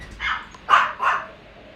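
A dog barks three times in quick succession, close and fairly loud, each bark short and sharp with a brief gap between them.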